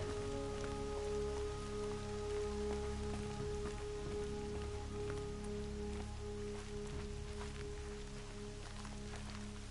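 Steady rain pattering on surfaces in the video game Horizon Zero Dawn, a continuous soft hiss with scattered drop ticks over a low tonal hum, no talk.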